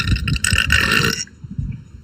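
A loud, drawn-out burp from a girl on a live stream, rumbling for about a second before trailing off into quieter throaty sounds, with no talking over it.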